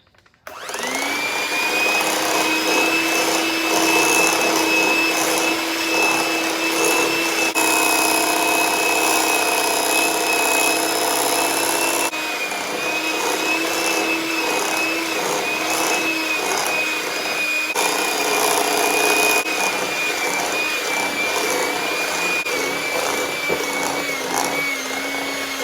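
Electric mixer beating powdered sugar into strawberry cake frosting, a steady loud motor whine starting abruptly and holding a constant pitch for the whole stretch, with slight shifts in tone partway through and no talk.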